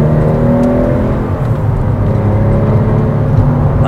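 A Porsche 996 GT3 with a lightweight flywheel revs steadily from inside the cabin, a loud, sustained engine drone that holds strong throughout.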